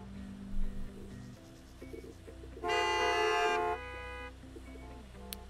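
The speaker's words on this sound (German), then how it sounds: "Sie hupen wieder fleißig." A car horn in the Gas Station Simulator video game gives one sustained, steady blast of about a second, standing out over quieter game background sounds and a few short low tones.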